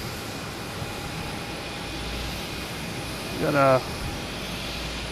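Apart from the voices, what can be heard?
Lufthansa 747 jet on runway 15 right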